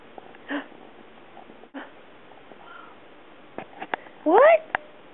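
A hungry pet cat gives a few soft meows, then a clearer rising meow near the end, with a person talking in between.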